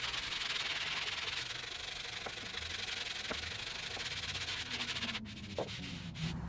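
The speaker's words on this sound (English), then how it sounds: "I'm just using a piece of a dowel with some sandpaper wrapped around it" Sandpaper wrapped around a wooden dowel rubs steadily against the inside of a guitar rim, a soft, continuous close scratching with a few small knocks near the end.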